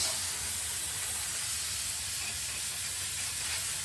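Steady close hiss of brake cleaner sprayed from an aerosol can onto a new front brake rotor for a 2020 Nissan Altima, washing off packing grease in a garage, continuous and even throughout with no talk.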